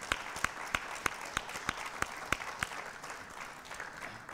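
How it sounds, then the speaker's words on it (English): Faint applause after a library talk with Richard Cohen, one close set of sharp, regular claps stands out over soft, distant clapping from the audience, then thins out. "Round of applause for Richard Cohen."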